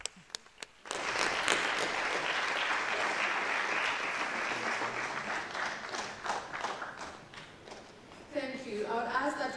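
An audience at an evening honoring ceremony bursts into sustained, loud applause, with dense clapping that runs for several seconds before thinning out as a voice begins speaking over it.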